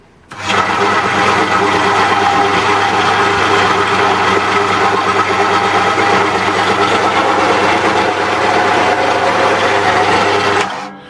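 An old DeWalt DW 100 electric bandsaw switches on and runs steadily for about ten seconds, a loud close rattling motor hum with a constant mechanical drone, before shutting off.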